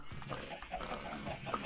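Pigs oinking in the Minecraft video game, with several short grunts scattered through a steady background of game noise on a server farm with other livestock nearby.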